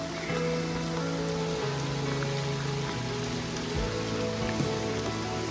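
Steady rain pours onto surfaces in a village campsite with a tent, a dense continuous patter close by, while a low humming tone shifts pitch in the background.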